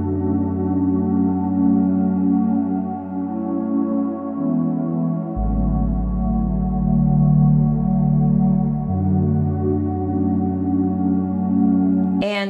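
A track plays alone, with soft, sustained synth pad chords changing slowly under a steady, warm, ambient tone and ending in a brief sharp cutoff.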